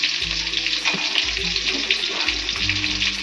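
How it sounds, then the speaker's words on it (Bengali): Potatoes frying in a pan, a steady loud sizzle with the scrape of stirring running through it and a low hum beneath. "আলুটাকে আমি এইভাবে নাড়িয়ে ভালো করে ভেজে নেব লাল করে।"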